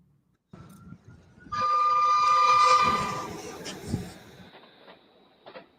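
A tourist train passes with a sustained rumble and a prolonged whistle blast in the middle, at moderate distance, followed by fading rail noise.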